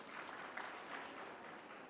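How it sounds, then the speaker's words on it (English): Faint, distant applause from a university graduation audience, a dense steady patter of clapping that holds evenly throughout. "Can we give a round of applause to that stakeholder?"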